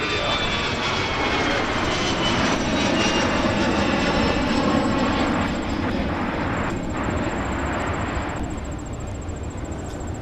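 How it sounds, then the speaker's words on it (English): Airliner engines rumbling and roaring at Minneapolis–Saint Paul airport, a steady loud broadband drone lasting throughout with a thin high whine on top, no pauses. "Delta 162 to AMS with the A330. They'll be departing here relatively soon."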